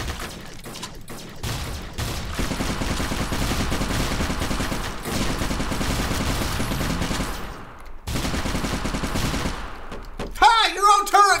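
Turret gunfire in the video game Fallout Equestria Remains plays as a loud, sustained burst of rapid shots lasting several seconds, followed by a brief pause and then a sharp, chirpy electronic effect at the end.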